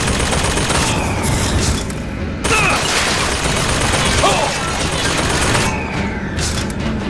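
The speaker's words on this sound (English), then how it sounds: "that machine gun back there isn't a problem, but this one certainly is" A video game firefight with sustained machine gun bursts that drop out briefly partway through, over a dense, rumbling background of explosions.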